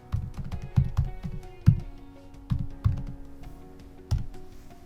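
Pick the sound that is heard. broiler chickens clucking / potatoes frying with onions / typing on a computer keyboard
typing on a computer keyboard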